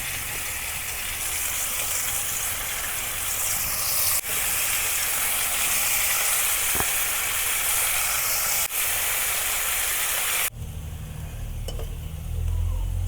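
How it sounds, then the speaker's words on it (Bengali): Potato chops frying in hot oil for a home-cooked Bengali meal give a steady, close sizzling hiss that runs unbroken for about ten seconds, then shifts to a quieter, lower bubbling with occasional stirring noises. "আগে আমি আলুর চপ ভাইজা নিতেছি"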